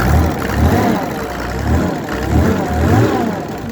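A Mercedes 603 3.0-litre diesel engine driving a water pump runs close by, its steady clatter swelling in slow, repeated revs and settling back between them.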